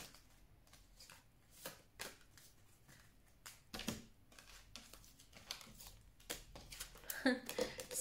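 A tarot deck being shuffled at close range, soft papery riffles and slaps in irregular bursts over a quiet room, with no talking.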